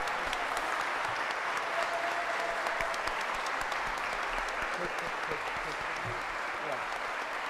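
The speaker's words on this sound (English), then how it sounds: "So if we can all give a round of applause to Gabe Amo." A city council meeting audience claps steadily for an honored guest, a dense, even wash of applause throughout, with faint murmuring mixed in.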